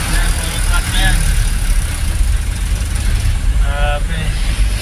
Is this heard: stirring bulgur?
no